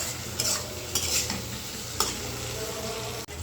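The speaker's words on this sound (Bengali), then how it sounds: "আলুগুলো দিয়ে আমি একটু ভালো করে কষাই নিই।" Potatoes are stirred and sautéed with spices in a wok while cooking a Bengali katla fish tail curry, giving a steady sizzle with a few louder scraping stirs of the spatula, close and without talk.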